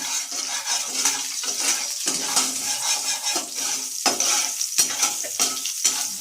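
Mustard seeds and green chillies crackle and spit in hot oil in a kadai, a steady close sizzle with quick popping bursts and occasional utensil scrapes, no voices.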